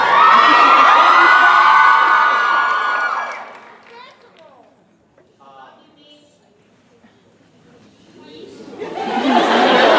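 A convention panel audience yells and cheers loudly for a few seconds, then goes quiet as scattered voices carry over the hush, and the crowd's shouting rises again near the end.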